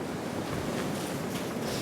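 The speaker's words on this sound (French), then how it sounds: "Mais si, il y a des vagues là-bas." Ocean surf breaking behind rocks at a Siberian surf spot, a steady broadband wash of waves with wind rumble, continuous and moderately distant.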